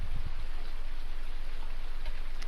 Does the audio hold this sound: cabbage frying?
no